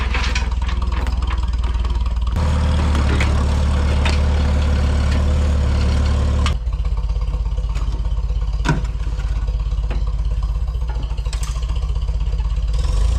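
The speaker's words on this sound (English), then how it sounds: "just gonna fire up this tractor and see how that comes out" A tractor engine starts and settles into a loud, close, steady diesel idle with clattering knocks and occasional sharper bangs, no talk.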